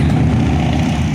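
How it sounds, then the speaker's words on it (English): A tractor engine runs loudly and close by, a steady dense rumble with no pauses or speech. "We have a tractor now."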